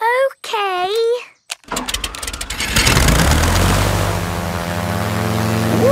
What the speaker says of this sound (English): The toy aeroplane is doing a loop-the-loop.